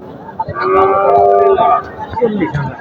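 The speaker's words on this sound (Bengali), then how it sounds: "প্রথম যে গরুটা দেখাচ্ছি" A cow at a cattle market gives one loud, drawn-out moo close by, with market chatter and voices around it before and after.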